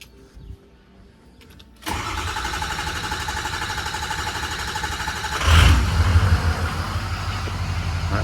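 A freshly rebuilt engine cranks briefly after a quiet start, then catches and settles into a loud, steady run, swelling in a burst of revs before holding an even idle close by.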